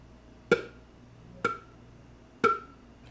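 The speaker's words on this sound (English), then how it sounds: "So doing it with just a head joint sounds kind of like this." Three crisp, breathy pizzicato-tongued pops on a flute head joint alone, spaced about a second apart, each with a brief pitched ring, played close.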